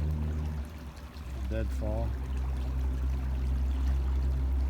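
A river flowing steadily at a quiet spot about four miles upstream, heard as a constant low wash running under a brief spoken word.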